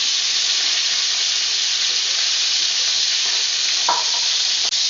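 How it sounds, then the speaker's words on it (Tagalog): Mackerel frying in a pan of hot oil, a loud, steady, hissing sizzle heard up close, with a brief clatter near the end as the fish is flipped. "After 10 minutes, just flip them over to fry the other side."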